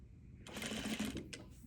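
A sewing machine back-stitches along a seam on a top collar, a quiet buzzing run of rapid needle strokes lasting under a second, with a brief click afterward.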